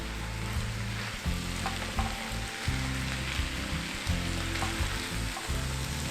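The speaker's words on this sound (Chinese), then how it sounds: "尽量搅拌到每一个米粒都可以去吸到这个汤汁" Cabbage rice with enoki mushrooms is stirred in a single pot over a steady low sizzle, with rhythmic scraping and turning strokes repeating every second or so, close up and with no voices.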